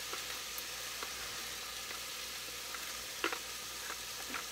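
Chopped onion sautés softly in a large pot, a faint, steady sizzle with occasional light clicks and scrapes, no voices present.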